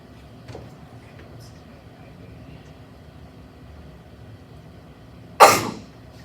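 A single sharp sneeze bursts out near the end, loud and close, after a stretch of quiet room noise with faint murmurs during a housing authority meeting.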